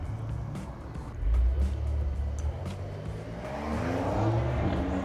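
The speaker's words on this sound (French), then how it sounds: "un client part avec la Taycan" A Porsche Taycan Turbo pulls away, a low, smooth whirr swelling and then rising in pitch as it leaves, moderately loud amid outdoor background noise.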